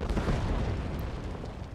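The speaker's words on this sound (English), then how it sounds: "Oh, dang! Explosions!" Explosions in the Elder Scrolls Online video game: a continuous, loud rumble of blasts and booms that keeps a heavy, dense texture throughout without a break.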